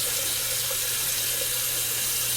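A faucet runs steadily, filling with a constant splashing hiss while a little more water is added to a shaving soap lather, close and loud with no pauses or speech.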